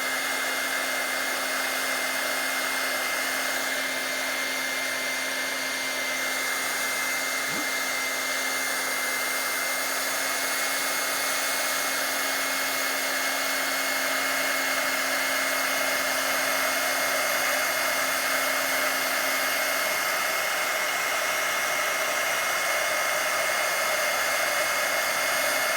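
A heat embossing tool blows hot air over stamped gold embossing powder, a constant, close, loud whooshing hum that holds unchanged for the whole stretch with no speech.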